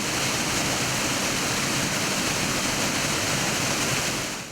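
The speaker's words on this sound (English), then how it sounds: "we've got a waterfall which originates from Rwenzori Mountains" Dense, constant roar of a waterfall fed from the Rwenzori Mountains near Fort Portal, Uganda, a steady wash of rushing water with no voices over it.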